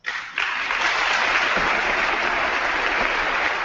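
Members of the US Congress break into loud applause during a speech by Ukraine's President Poroshenko, the clapping starting abruptly and holding as a dense, sustained roar of a large chamber crowd.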